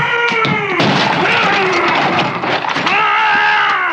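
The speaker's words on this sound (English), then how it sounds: "I love his scream." Scream from the film Young Frankenstein, a loud, drawn-out wavering shriek that swoops up and down in pitch, with crashing, booming film sound behind it.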